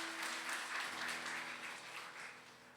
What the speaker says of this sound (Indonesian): Tepuk tangan sama-sama.